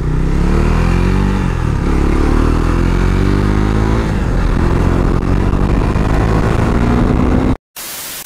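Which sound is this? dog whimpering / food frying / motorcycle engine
motorcycle engine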